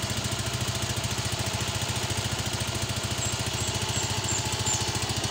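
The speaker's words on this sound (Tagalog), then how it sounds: "Painitin muna natin yung kanyang makina." A Suzuki Smash 115 motorcycle engine idles steadily nearby while warming up, its low rhythmic putter unbroken and even throughout, with no voices; its exhaust has a leaking hole.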